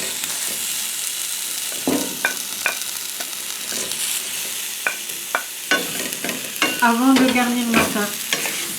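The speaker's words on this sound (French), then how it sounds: "je vais y rajouter les pommes que j'ai coupées. Je vais juste faire cuire quelques minutes" Sliced apples for an apple tart cook in a pan, a steady sizzle under repeated stirring and scraping of a utensil, close, while a voice speaks briefly over it.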